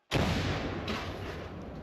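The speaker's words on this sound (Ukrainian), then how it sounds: "Гармата!" A single heavy artillery blast erupts suddenly, followed by a long rumbling roar that slowly fades.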